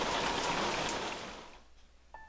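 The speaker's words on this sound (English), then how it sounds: "You are drenched from this rain." Rain falls in the video game Persona 3 Portable, a dense steady patter that fades out over the second half, followed by a brief soft game chime near the end.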